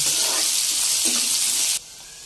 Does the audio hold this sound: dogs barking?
no